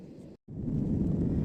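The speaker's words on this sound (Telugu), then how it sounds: "చూడండి, విమానం ఇప్పుడే నెమ్మదిగా మూవ్ అయ్యింది." Airplane rolling down a runway and lifting off, heard from inside as a steady, loud low rumble that cuts out briefly near the start, then returns and holds evenly.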